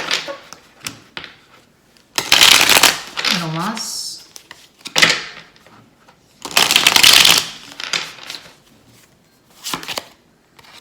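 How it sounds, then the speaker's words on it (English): Tarot cards being shuffled in two loud, crisp riffling bursts, with a voice speaking between them and scattered tapping handling sounds. "Good hard shuffle."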